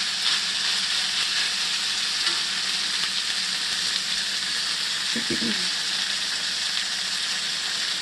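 Knoephla dumplings brown in a hot pan on high heat, a steady close sizzle and crackle of frying that holds constant throughout, with a brief soft clatter partway through.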